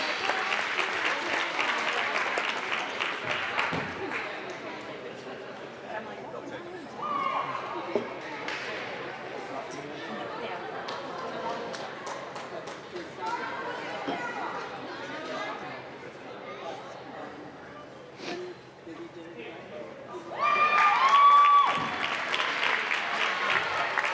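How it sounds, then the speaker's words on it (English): Audience applause for the coaches at a girls hockey championship game ceremony, sustained clapping across the whole stretch with crowd chatter and cheering mixed in, plus an announcer's voice over the PA. "how about a big round of applause for our coaches as well?"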